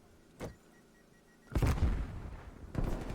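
Bursts of Call of Duty gunfire during a professional league match: a short distant shot, then a heavy sustained volley of booming shots, another burst at the end, no voices.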